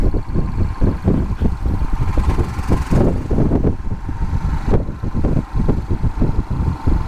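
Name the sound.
motorcycle engine rumbling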